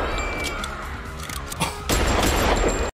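Gunfire from a shootout in the 2004 movie Collateral, a loud dense burst of shots and impacts with a brief lull before a second heavier volley, ending abruptly.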